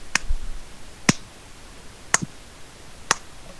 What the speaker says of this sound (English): somebody starts this like rhythmic clapping